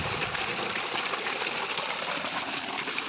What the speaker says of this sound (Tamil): எப்படி தண்ணி பாயுதுன்னு பாருங்களேன்